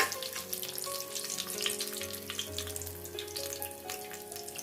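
Cashews fry in hot oil with curry leaves in a pan for a fenugreek-leaf pulao, giving a steady, dense, close sizzle throughout with faint crackle and no voices.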